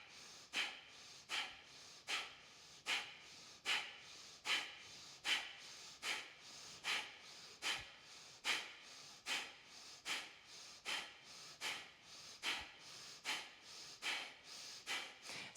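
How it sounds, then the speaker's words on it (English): Rapid Kapalabhati breaths are forced sharply out through the nose in a steady rhythm, about one short puff per second, close and clear in a quiet room with no talking. "Kapalabhati breathing through your nose."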